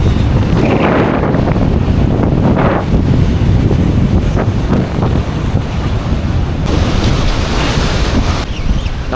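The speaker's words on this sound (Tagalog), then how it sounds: "Lakas ng dagat." Strong sea waves and gusting wind at the shore during a fishing outing, a loud, continuous roar of surf with heavy wind buffeting the microphone throughout.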